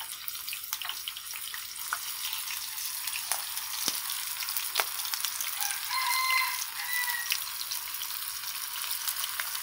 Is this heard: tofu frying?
yes